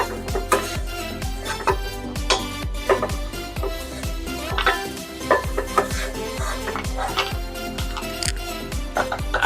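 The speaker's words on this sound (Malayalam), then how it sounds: "അണ്ടിപ്പരിപ്പ് നമുക്കിത് വറുത്ത് കോരിയെടുക്കുക." Cashews are stirred and fried in ghee in a metal pan while semiya payasam is being made, with a steady run of rhythmic scraping and clinking strokes over a low sizzle, close and fairly loud.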